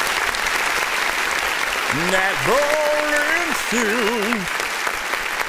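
A canned applause sound effect on an independent artist music review show makes a steady wash of clapping noise, with a voice speaking over it.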